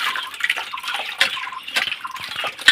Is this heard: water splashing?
yes